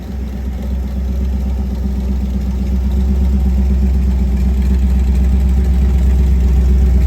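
A freshly installed 350 small block V8 in a 1955 Chevy truck rumbles close by with a deep, steady, continuous drone that grows slightly louder over about seven seconds. No voices.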